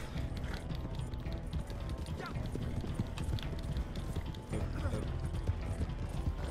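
Horse hooves clip-clopping in the Red Dead Online video game, a steady galloping rhythm set within a dense mix of game sound, with talk over the top.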